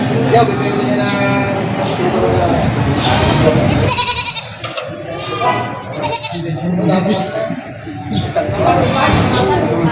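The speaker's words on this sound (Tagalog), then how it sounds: "Dagsa ang mga kambing na pambenta ngayon dito" Goats bleat repeatedly at a crowded livestock market where animals are weighed for sale. The calls sound close and loud, mixed with pigeon-like cooing and people talking throughout.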